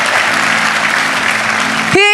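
A church congregation claps loudly and continuously, a dense even wash of applause for about two seconds, ending as a voice cuts in.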